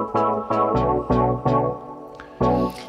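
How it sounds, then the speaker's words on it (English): A Classic EDM House combinator patch in Reason plays a short pattern of punchy synth chord stabs in a steady rhythm, each stab decaying quickly, clear and upfront with no voices. "So here's a combinator called Classic EDM House."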